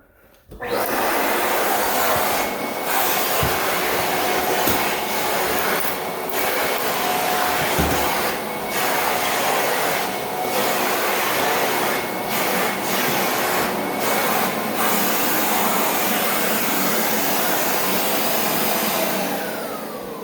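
A backpack vacuum cleaner runs steadily on a floor, a loud continuous whine and rush that starts abruptly and holds for the whole stretch, with occasional small bumps and knocks.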